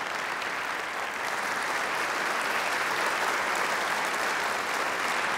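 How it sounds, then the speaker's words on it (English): A large audience at an awards gala applauds for the new honorary member of the New York Academy of Sciences, steady dense clapping that holds for several seconds with no talk. "let's give a round of applause to the newest honorary member of the New York Academy of Sciences, Mr. Len Blavatnik."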